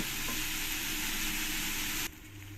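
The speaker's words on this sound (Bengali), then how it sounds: "একটু সময় করে নিয়ে আমি সয়াবিনগুলোকে ভেজে নেব" Soybean chunks fry in hot oil in a wok, a steady loud sizzle that suddenly drops to a quieter simmer with a low hum near the end.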